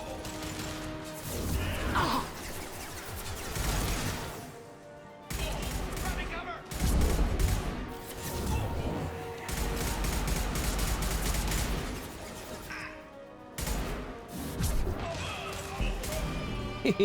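Sci-fi weapon fire in Mass Effect 2 while shooting an enemy Turian, with bursts of rapid shots and crashing impacts that stop and start, mixed with game effects and talking.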